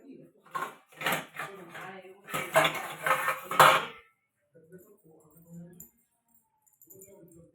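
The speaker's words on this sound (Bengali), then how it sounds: "দাঁড়াও তোমাদের বাটিতে ঢেলে দেখাচ্ছি।" Puffed rice snack mix tossed with boiled fried chickpeas, peanuts, chanachur, chopped chilli and pickle oil is tipped into a bowl, giving a few seconds of close dry rattling and clinking, followed by quieter talk.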